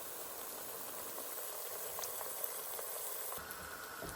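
Plantain slices frying in a pan give off a steady, even sizzle and bubbling hiss that continues throughout, with faint crackles, close by and without voices.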